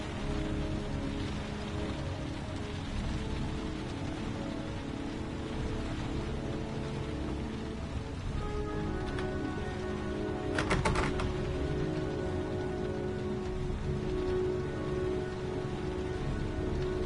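Steady rain falls and patters on surfaces in the game Heavy Rain, a continuous close hiss with brief sharper clicks partway through and no talk.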